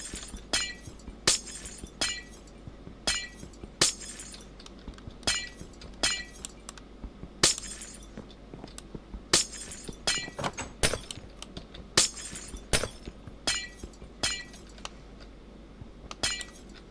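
Glass blocks being smashed one after another in Minecraft, each break a crisp tinkling shatter, repeating at an irregular but steady pace, fairly close and clear over a quiet background.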